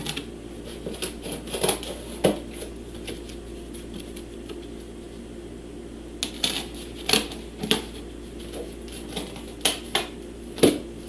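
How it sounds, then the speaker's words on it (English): Cardboard being trimmed for a model tipi, heard as irregular crisp cuts and snips close by, some in quick clusters, with no one talking. "I'm going to trim down my cardboard here a little"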